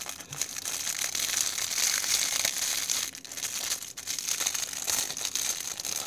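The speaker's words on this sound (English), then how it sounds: "Has a very noisy wrapper." Plastic wrapper on the case of an Angry-Wolf stainless steel fidget spinner crinkles and crackles continuously and close up, with denser bursts of rustling throughout and no talking.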